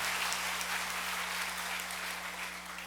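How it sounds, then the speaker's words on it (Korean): A church congregation gives sustained applause at an evening Sunday worship service, a dense, even patter of many hands clapping together that fades slightly toward the end, with a low steady hum of the room beneath. "우리 다시 한번 격려의 박수, 또 기도하겠다는 응원의 박수 부탁드립니다"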